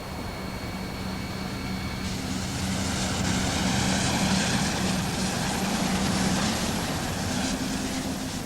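A naval helicopter lifting off carrying a radar scanner in a weatherproof bag for airborne early warning, a steady loud roar of turbine and rotor that swells as it gets airborne, with no voices.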